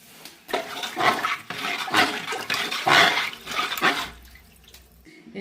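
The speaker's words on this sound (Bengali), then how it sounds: "এখন এর মধ্যে দিয়ে দিচ্ছি পানি" Water poured into a pot of sautéed vegetables, rice and lentils gives a rushing, splashing pour in several surges over a few seconds, close and fairly loud, fading to quiet at the end.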